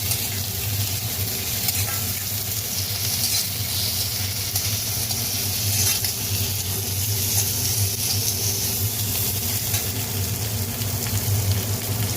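Onion and tomato frying in a pan for a garlic pepper chicken stir fry, a steady close sizzle with faint scraping of stirring, continuing without break and without talk.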